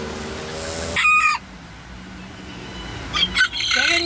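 A bantam hen lets out a few short, close clucks and squawks in separate bursts, with quieter background noise between them.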